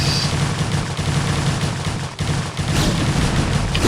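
Photon cannons fire on attacking Zerglings in StarCraft: Remastered, a dense, continuous clatter of overlapping impacts and bursts with a brief dip midway.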